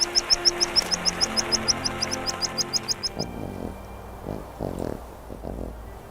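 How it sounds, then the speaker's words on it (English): Arctic birds calling across the open tundra in summer, a regular run of sharp repeated chirps at first, then scattered fainter calls over a steady background, with no voices. "Millions of birds arrive from the south."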